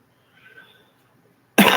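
A single short, sharp cough bursts out close and loud at the end, after a brief quiet stretch with faint rustling.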